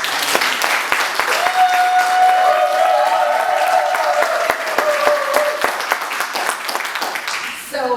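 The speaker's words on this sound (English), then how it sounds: "If we could give them a round of applause" An audience at an art museum event gives a loud, sustained round of applause, dense clapping that carries for several seconds before tapering off, with a few cheers and crowd voices mixed in.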